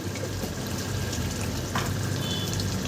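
Jackfruit curry being stirred in a pan after ghee and garam masala go in: a continuous close sizzle with soft scraping and wet stirring textures, a brief clink midway, no talking.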